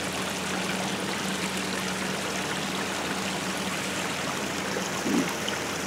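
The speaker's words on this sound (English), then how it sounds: "Love this waterfall. Coming down three different ways." Waterfall pouring down three separate ways, a steady broadband rush of falling water heard from nearby with no voices.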